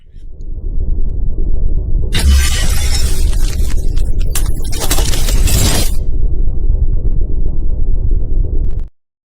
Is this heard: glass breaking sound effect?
yes